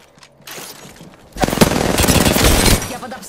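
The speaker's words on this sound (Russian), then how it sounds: "Я под обстрелом." Gunfire in the video game Apex Legends, heard as dense automatic bursts that build into a loud, sustained barrage for over a second before cutting off.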